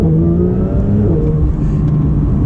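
A Porsche 992 GT3 pulls away from a traffic light, its engine note loud and close as it climbs in a steady, smooth rising drone through the brief run.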